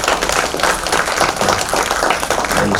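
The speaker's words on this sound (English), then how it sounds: "Let us have a big applause for" Dense clapping from an audience at an IMD stakeholders meeting fills the space, a continuous round of applause without pause.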